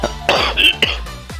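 Three sharp, harsh coughs in quick succession from someone nearby, each trailing off into a raspy throat sound.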